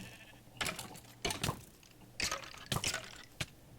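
Several short bleating bursts from a sheep in Minecraft, spaced irregularly over a steady low background hum.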